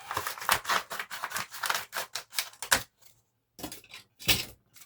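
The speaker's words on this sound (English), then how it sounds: "scissors for this one." Scissors snip repeatedly in quick, uneven bursts of crisp cuts close to the microphone, pausing briefly before a few final snips.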